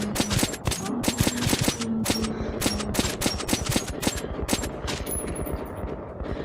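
Rapid automatic gunfire from Metro: Last Light, dense and continuous bursts of shots firing in quick succession for several seconds, loud and close with no pauses.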